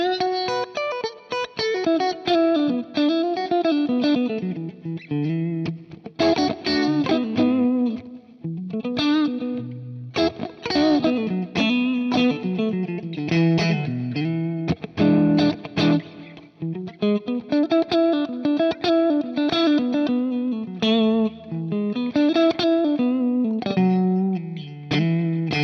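Distorted electric guitar with the pickup selector in the in-between middle position plays a sustained riff of chords and melodic runs, loud and up close, with effects shimmer and no voice over it.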